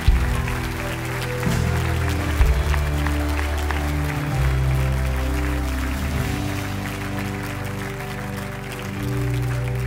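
Audience applause at a guest speaker event, steady and continuous under strong sustained music, with no talk over it.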